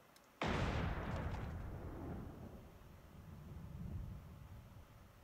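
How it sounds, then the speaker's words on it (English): A single sharp, loud gunshot from the anime Trigun cracks out, followed by a long rumbling decay and echo that slowly fades. "We're gonna hear a gunshot."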